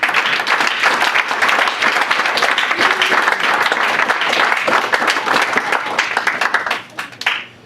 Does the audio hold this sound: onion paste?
no